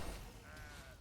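Sheep bleat in the game Raid Shadow Legends, a single brief wavering cry rising over continuous game sound, moderately loud.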